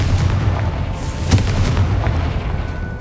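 Confringo fire spell explodes in the video game Hogwarts Legacy, a sharp booming burst rising briefly over a steady rumbling game soundscape.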